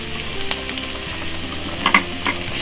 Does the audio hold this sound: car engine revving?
no